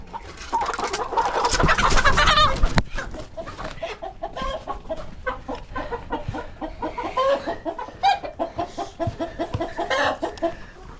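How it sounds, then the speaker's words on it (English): Rooster in a pen, loud close clucking and squawking calls in repeated bursts with fowl chatter continuing throughout. "there's a rooster in Willow's pen too"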